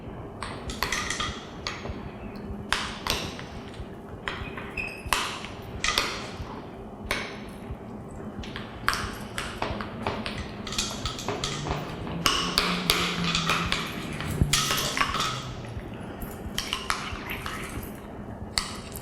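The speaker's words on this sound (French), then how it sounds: "La canne de tomate avec un bouillon de bœuf qu'on va essayer de mélanger avant de le rajouter." Utensils clink and tap against a pot or bowl while tomato paste is stirred with beef broth for harira soup, irregular metallic strikes that repeat throughout, fairly quiet.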